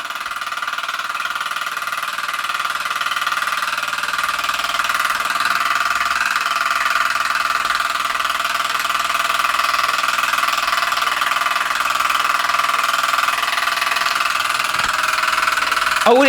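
A Mersey Model steam engine with a worn, undersized crank pin runs continuously, giving a loud, steady mechanical clatter and whine with faint irregular knocks, and no voices.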